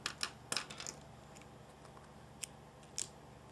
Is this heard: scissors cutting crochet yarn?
yes